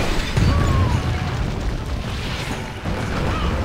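Castle walls are blown apart by an explosion in Stronghold 2, a sustained low rumbling boom of crumbling stone that rolls on steadily for a few seconds.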